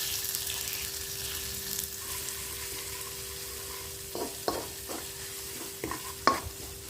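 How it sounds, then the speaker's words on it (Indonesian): Ground spice paste sizzles in leftover shallot-frying oil for Indonesian chicken lemper filling, a steady soft frying hiss broken in the later seconds by several sharp scrapes and clinks of stirring. "Kita pakai sisa minyak dari kita menggoreng bawang tadi ya. Lalu kita masukkan bumbu yang sudah kita haluskan tadi."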